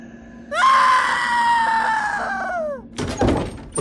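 A woman lets out a long, loud, piercing scream in a horror story audio drama, sustained for over two seconds and fading downward, followed by a dull thump and rustle.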